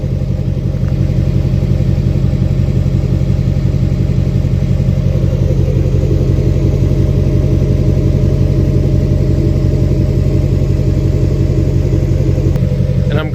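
An LBZ Duramax diesel truck with a 5-inch straight-pipe exhaust and a minimal Diamond Eye muffler rumbles steadily and loudly, a deep, continuous engine drone that holds throughout with no talk.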